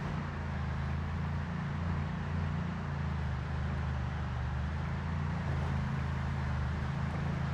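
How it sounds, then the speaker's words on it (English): Cars driving in a video game, a loud continuous low engine drone with steady road rumble that persists throughout with no breaks. "Didn't know cars were that loud."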